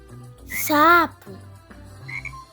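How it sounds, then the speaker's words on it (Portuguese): A frog gives a loud, close croak in a single short burst, with a fainter call following, heard alone as one animal in a children's series of animal sounds. "sapo"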